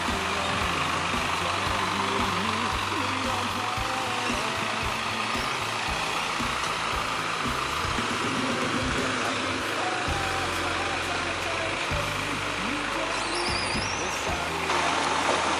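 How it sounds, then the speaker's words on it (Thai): A flatbed slide tow truck running, its engine rumbling steadily with shifting low mechanical tones and occasional higher whines, and faint voices in the background. "เป็นรถสไลด์ถาดนอนนะครับ"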